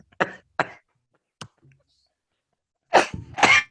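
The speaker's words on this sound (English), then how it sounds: "Got me coughing" A person coughs in several short, sharp bursts: two quick coughs, a faint one, then a louder, heavier pair close to the mic after a pause.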